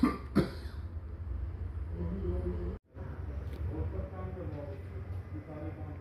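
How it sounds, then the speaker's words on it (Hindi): A patient coughs once sharply, then again, during a hernia examination in a clinic, followed by a murmur of quiet room noise and indistinct talk. "अच्छा, खांसी कीजिए."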